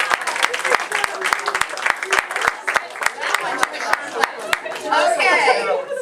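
An improv workshop audience gives a round of applause after a group storytelling performance, sharp separate claps that build into fuller clapping, with chatter and talk mixed in.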